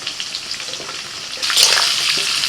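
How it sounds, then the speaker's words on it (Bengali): Mixed vegetables with pumpkin fry loudly in a pan for a mixed veg sabji, a steady close sizzle that swells into a brighter hiss midway as they are stirred, with no voices. "আবারও সব কিছু আরেকটু ভালো করে ভেজে নেবো"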